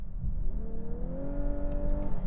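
A 2022 Lexus LC 500h hybrid coupe under full throttle, its engine note climbing in a smooth, rising drone over road rumble, close and steady with no talking.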